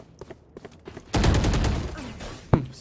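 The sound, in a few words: gunfire in the video game Valorant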